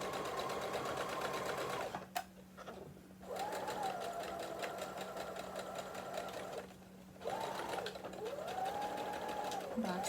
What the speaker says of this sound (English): I'm going to stitch, I'm going to back stitch.